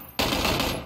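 Automatic gunfire in the battle-royale video game PUBG erupts suddenly after a brief quieter moment, a loud, dense burst of rapid shots that fills the rest of the short clip.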